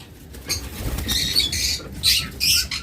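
Lovebirds in a rooftop breeding farm give several sharp, harsh squawks in bursts, with wing flutter and rustling close by against a dim background hum.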